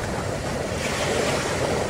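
Surf breaking steadily along Klotok Beach, a broad continuous wash of waves with wind noise across the microphone, loud and close with no pauses and no voices.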